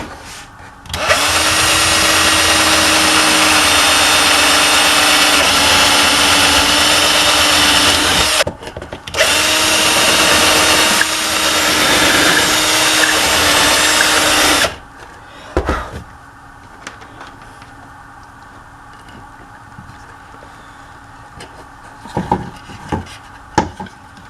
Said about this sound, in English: I drilled a hole for the cord and elongated it with a 1/4 inch drill bit.